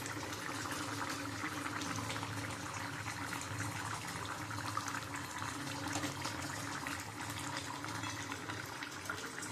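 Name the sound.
fried bhola fish added to simmering brinjal potato curry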